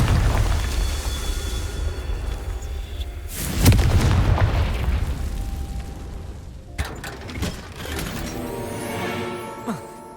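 A Confringo fire spell detonating in Hogwarts Legacy, a deep booming blast with crashing debris, followed by a second sharp impact and clattering after a lull.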